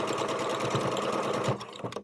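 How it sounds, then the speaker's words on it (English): A sewing machine stitches shoulder straps on a handmade medieval dress, a close, fast, steady mechanical whirring rattle that runs nearly two seconds before stopping abruptly. "now I'm going to sew the shoulder straps together."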